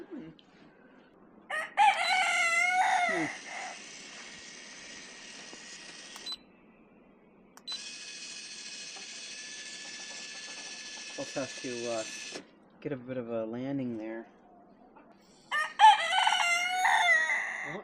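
Chickens at their chicken house give short crowing and clucking calls between stretches of a steady mechanical buzzing whine, with a person talking nearby.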